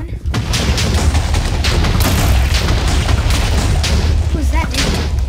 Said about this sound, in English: Shooting fireballs.